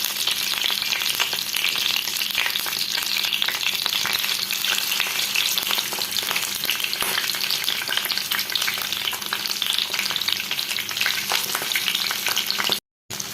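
Chicken pieces frying in oil in a pan make a steady, close, loud sizzle that crackles evenly throughout with no talking, then drop out for a moment near the end.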